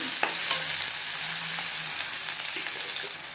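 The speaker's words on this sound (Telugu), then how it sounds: "ఇలా ఫ్రై అయ్యాక ఉల్లిపాయ ముక్కలు వేసుకోవాలి. ఇందులో వేసుకుని కలుపుతూ ఫ్రై చేసుకోవాలి." Onion pieces fry in a pan for a healthy broccoli tomato dish, giving a loud, continuous hissing sizzle up close with a few soft stirring scrapes and no speech.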